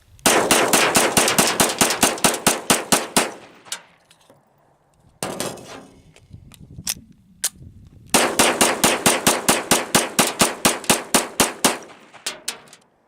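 A Springfield XD-9 Mod 2 pistol with a 4-inch barrel fires loud, rapid shots in two fast strings with a short pause between them, with a few single shots in the pause.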